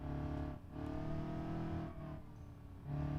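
Turbocharged Ibishu 200BX engine in BeamNG revs in sustained, steady drones broken by two brief dips as the throttle lifts, loud and close throughout.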